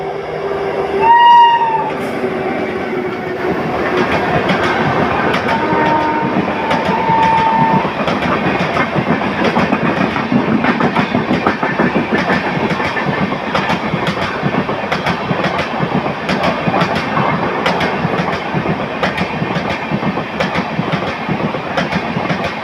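A train sounds a brief horn, then rolls steadily past Ettimadai railway station in the Western Ghats, with loud continuous wheel rumble and rhythmic clickety-clack of carriages over the rails.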